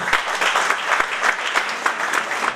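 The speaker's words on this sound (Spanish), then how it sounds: "Recibamos con caluroso aplauso." An audience at an international human rights and constitutional law congress gives warm applause to welcome a speaker, a bright, continuous patter of many hands with small swells, close and fairly loud.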